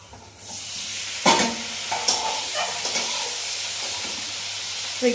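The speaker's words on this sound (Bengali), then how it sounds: "ঘি দিয়ে পনিরটাকে সুন্দর করে লাল লাল করে ভেজে নেব" Paneer fries in ghee in a pan with a close, continuous sizzling hiss, with a few louder bursts as pieces are stirred and turned and spatula scrapes against the pan; no one speaks.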